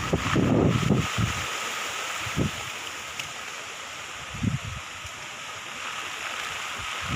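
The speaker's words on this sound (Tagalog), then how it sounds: "Malakas pa rin po yung hangin." Strong typhoon wind (Typhoon Ulysses) rushes continuously with heavy, gusty roaring and rustling, buffeting the microphone in several low thumps.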